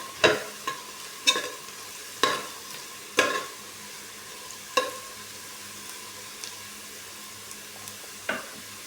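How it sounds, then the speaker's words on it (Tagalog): Garlic stirred in a frying pan for octopus adobo with coconut milk: about eight sharp utensil scrapes and clinks at irregular intervals over a low steady sizzle, no voices. "Lagyan na rin natin guys yung bawang."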